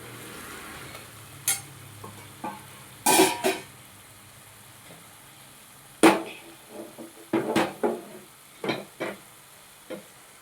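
A spoon stirs ground gongura leaves into dried-shrimp curry frying in a pan, giving a soft, steady sizzle with irregular scraping clatters and knocks against the pan. A cough breaks in partway through.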